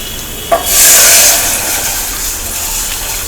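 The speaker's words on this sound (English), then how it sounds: "now we can add vegetable stock or beef stock, whatever is available" Vegetable or beef stock pours into a pan of golden-browned onions, starting with a sharp hit and then a loud, steady hissing sizzle that slowly settles, close up with no voices.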